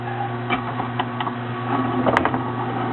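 A juicer machine grinds Granny Smith apples with a steady motor hum, layered with rapid mechanical clicking and ticking as the fruit is pushed through, holding an even loudness throughout with no talking.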